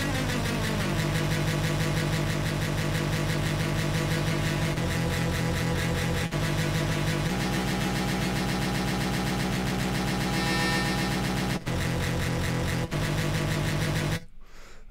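A buzzy, harmonically rich synth patch from Phase Plant with a resonator added drones loud and sustained, shifting tone a few times before cutting off abruptly at the end.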